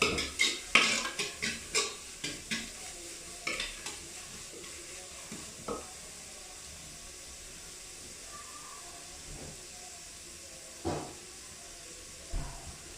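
Chicken biryani masala with green chillies is stirred in a pot, bringing a quick run of sharp spoon knocks and scrapes over a soft sizzle, then a quieter simmer with two more isolated clanks near the end.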